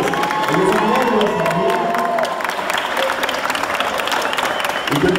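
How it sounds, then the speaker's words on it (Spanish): A school graduation audience applauds the parents with loud, dense clapping mixed with cheers and whoops. Voices shout through the crowd noise, and a speaker's voice returns at the end. "Más fuertes aplausos a sus padres."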